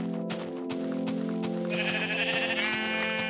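Sheep bleat in the video game Minecraft. A loud, close, wavering bleat holds for over three seconds, and a higher bleating tone joins it partway through.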